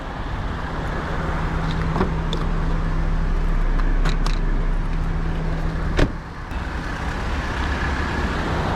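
A 2005 Perodua Myvi 1.3 EZI automatic idles steadily close by, a continuous low engine hum with a few faint clicks and a brief knock near the end.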